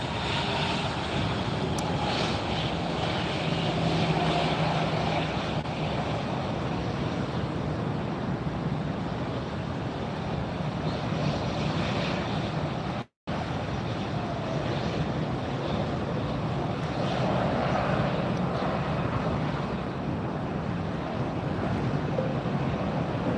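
A Douglas DC-3 propeller airliner at Fort Lauderdale drones steadily as it moves onto the runway for takeoff, a continuous loud engine rumble with wind buffeting and one brief dropout.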